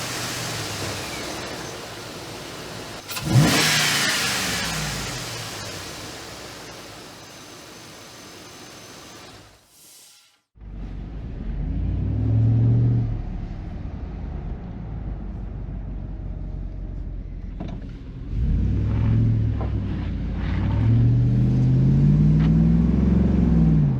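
A Dodge Ram 1500 with a 5.7L Hemi and a custom cold air intake driving along, steady engine and road rumble with a sharp bump near the start, a brief dropout, then louder rising engine tones as it pulls away.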